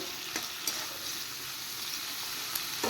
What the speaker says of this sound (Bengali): এবার দিয়ে দিচ্ছি কেটে রাখা ক্যাপসিকাম ক্যাপসিকামগুলো একটু নুন দিয়ে ভেজে নেব